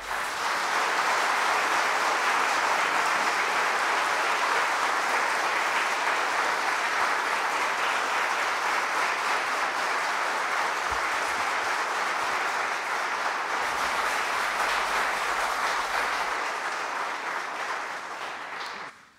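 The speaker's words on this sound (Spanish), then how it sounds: "El público les puede brindar un merecido aplauso." Sustained audience applause at a swearing-in ceremony for new lawyers before a supreme court, steady and dense for nearly twenty seconds before tapering off at the end.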